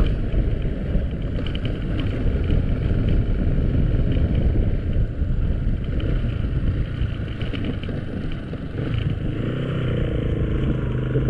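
A 4x4 vehicle's engine runs strongly and steadily on a rough road near a river crossing in Santa Ines, Tanay, a loud continuous low rumble with rattling clatter throughout.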